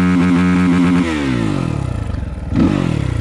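A 2022 SSR SR300 Chinese dirt bike with an FCR carburetor and Pro Circuit exhaust pipe revs up close, holds a steady rev, eases off, then blips the throttle again, loud with no talk.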